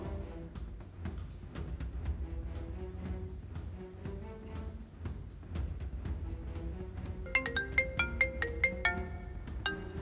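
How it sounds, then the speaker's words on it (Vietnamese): A phone ringtone plays a melodic electronic tune steadily for about ten seconds, growing brighter near the end, with no speech over it. "Anh Nhân gọi cho tôi"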